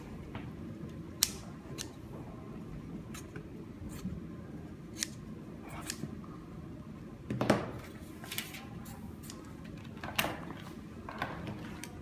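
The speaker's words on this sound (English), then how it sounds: "Now, I'll cut around the arm." Scissors snipping through fabric around a garment's armhole during a sewing class, quiet scattered sharp clicks and blade scrapes at irregular intervals with one longer rustling cut, no talking.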